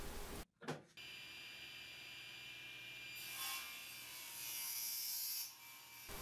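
A table saw rips maple strips, its steady motor whine rising into a brighter, harsher cutting tone for a few seconds as the blade passes through the hardwood, after a short start.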